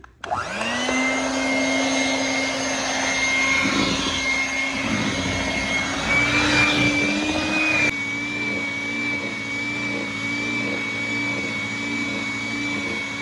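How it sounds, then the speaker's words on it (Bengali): A kitchen blender whirs through mango cake batter thickened with a little flour, a steady loud motor drone running unbroken for over ten seconds, its pitch shifting slightly partway through. "এখন আমি এটাকে ব্লেন্ড করবো এখন আবার ব্লেন্ড করি"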